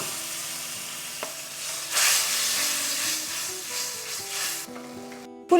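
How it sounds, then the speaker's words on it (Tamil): Steady sizzling and bubbling from tamarind water boiling in a pan on the stove, continuous and close, with a faint clink near the end. "இதில் கொஞ்சம் தண்ணி ஊற்றி புளி பச்சை வாடை போகிற வரைக்கும் கொதிக்க விடலாம்."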